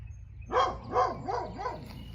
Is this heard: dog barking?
yes